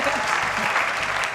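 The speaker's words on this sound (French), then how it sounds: "Applaudissements, s'il vous plaît, merci." Dense studio audience applause from a live television talk show, loud and continuous throughout a short burst with no talk over it.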